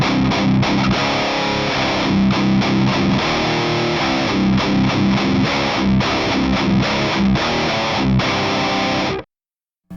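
Loud high-gain electric guitar played through a heavily driven amp, thick distorted chords and riffs with choppy palm-muted rhythm, cutting off abruptly into silence near the end.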